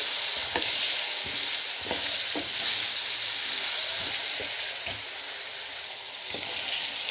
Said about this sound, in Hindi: आलू डाल दें जो हमने काट के रखे थे, मिक्स करें। एक 2 मिनट पकने दें।